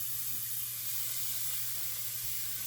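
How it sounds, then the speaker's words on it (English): Avocado oil sprayed over steaks on an air fryer tray, a steady close hiss of fine mist running for a few seconds, heard on its own over a low hum. "you're going to want to spray a little bit of the avocado oil onto it"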